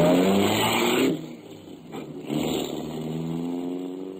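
A car pulls away in a radio drama sound effect, its engine revving loudly up close, easing briefly, then climbing again in pitch as it drives off.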